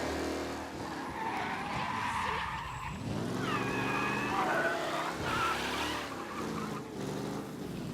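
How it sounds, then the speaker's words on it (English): A race car skids hard through city streets in Mafia: Definitive Edition, with a loud engine roar and screeching tires sliding through one long turn and then another, close and continuous throughout. "Officers reporting a race car driving at speed through the city"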